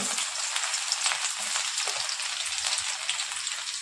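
Finely chopped garlic hits a little leftover oil in a pan, giving a dense, steady sizzle with bright crackling close to the mic and no voices.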